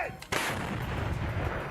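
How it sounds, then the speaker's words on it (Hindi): A single loud boom as a Russian artillery cannon fires a shell at a Ukrainian position, a sharp blast followed by a long rumbling decay, heard from some distance with no voices. "वीडियो में रूसी सेना ने अपनी इस ताकतवर तोप से यूक्रेन के ठिकाने पर पहले एक गोला दागा"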